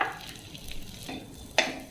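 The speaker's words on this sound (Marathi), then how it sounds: "आणि त्याच्यावर हे बेदाणे आपले सगळे परतून घेऊया" Raisins being roasted in ghee in a wok for dink ladoo, a soft steady sizzle with a few scraping stirs and one sharp clink near the end, close by with no talking.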